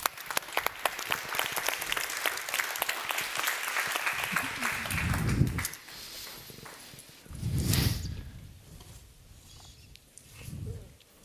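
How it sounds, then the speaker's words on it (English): An audience at a fashion sustainability panel claps for several seconds. The applause then fades, and a few low, muffled thumps and rustles follow. "Round of applause."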